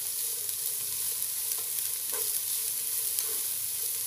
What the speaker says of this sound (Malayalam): നമുക്ക് ഇതിലേക്ക് ബീൻസ് ചേർത്ത് കൊടുക്കാം. എന്നിട്ട് ഒന്നുകൂടെ ഒന്ന് രണ്ട് മിനിറ്റ് ഒന്ന് ഇളക്കി കൊടുക്കണം.